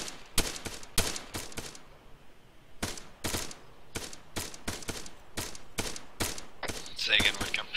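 Gunfire from a Marine platoon live-fire training exercise, heard as irregular sharp shots and short bursts throughout, some closely spaced, with radio-style chatter faintly in the background.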